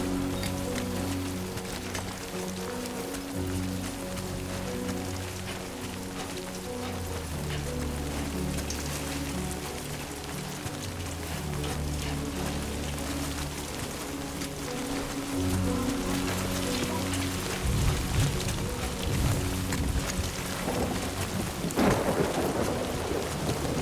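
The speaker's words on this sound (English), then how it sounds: "Great. Rain. Gotta move." Heavy rain pours without a break in the video game Death Stranding 2, while low rumbling thunder rolls repeatedly beneath it and grows heavier near the end, with no voices.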